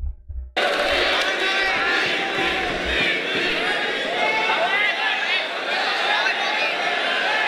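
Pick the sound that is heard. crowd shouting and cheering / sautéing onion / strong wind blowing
crowd shouting and cheering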